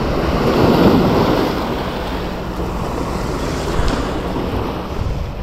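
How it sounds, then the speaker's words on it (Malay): Ocean waves washing onto the shore at a fishing spot as the swell eases, a loud, continuous rushing surf with wind buffeting the microphone and no talking. "ombak pun dah makin slow lah"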